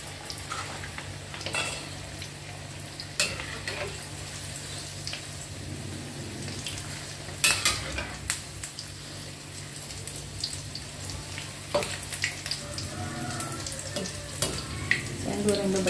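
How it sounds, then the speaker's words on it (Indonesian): Milk tofu fries in a hot pan with a steady, close sizzle. Occasional sharper clatters and stirring knocks sound over the crackle. "Goreng beberapa aja ya ini."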